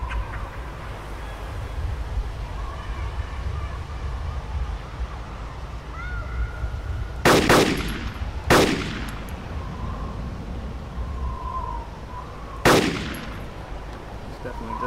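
Three sharp, loud gunshots ring out in DayZ Epoch on Namalsk, an Arma 2 mod: the first two close together, the third a few seconds later, over a steady low ambient rumble.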